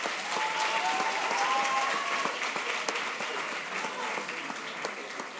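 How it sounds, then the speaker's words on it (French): An audience at a student eloquence contest semi-final applauds the organising association with steady, dense clapping that holds for about five seconds, with brief faint voices audible underneath. "que vous pouvez applaudir pour l'organisation."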